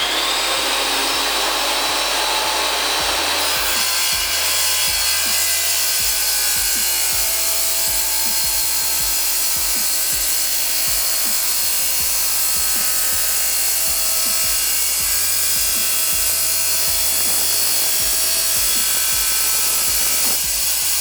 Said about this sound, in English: with my other arm, I'm going to drop it into the tile